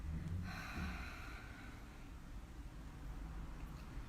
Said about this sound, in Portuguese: vamos soltar a respiração pela boca